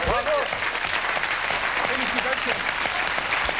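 Studio audience applauding on a 1999 French TV show after a BMX rider's tricks, a dense, steady wash of clapping throughout with someone talking over it.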